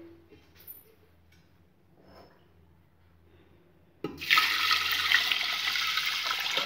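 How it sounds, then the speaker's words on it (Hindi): A faint low hum, then a sudden steady rush of water pouring into a metal pressure cooker over lentils, loud and continuous to the end. "अब इसमें हम पानी डाल देंगे।"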